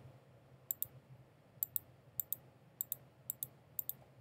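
A computer mouse button clicks in quick double pairs, six crisp pairs spaced about half a second apart, close and distinct over a faint low hum.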